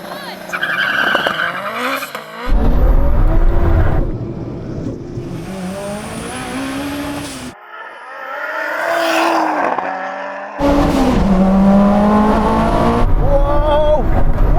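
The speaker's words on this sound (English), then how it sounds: "And then I let the boost build, and then I release the paddle, and the car will just launch." A tuned race car launches in a drag race: surging engine roar, tire squeal and skidding in loud bursts broken by short quiet gaps, with excited voices talking over it.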